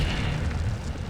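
An Incendio fire spell is cast in Hogwarts Legacy, a loud, sustained roaring whoosh of flame with a heavy low rumble filling the whole brief moment.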